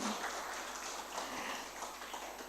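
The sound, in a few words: church congregation applause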